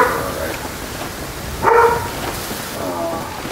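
A single short dog bark sounds at a distance in the background of a gaming voice chat, over a quiet room hiss.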